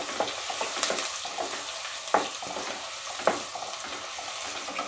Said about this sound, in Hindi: अब ये प्याज और हरी मिर्च डालने के बाद इनको हिलाएंगे अच्छे से हम, और एक दो मिनट के लिए पका लेंगे ब्राउन होने तक